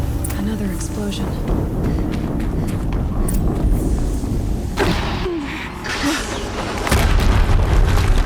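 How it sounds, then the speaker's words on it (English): Another explosion in the action game Horizon Zero Dawn: a dense, loud boom and rumble that holds steady, briefly thins, then surges back with a heavier blast near the end. "Another explosion."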